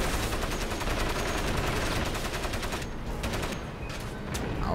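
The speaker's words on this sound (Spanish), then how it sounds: "¿Quién coño es ese que me está disparando y por qué no muere?" Sustained rapid gunfire from an enemy firing at the player in the shooter game Crysis, dense bursts of automatic fire continuing steadily without pause, loud and close.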